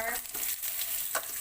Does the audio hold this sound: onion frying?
yes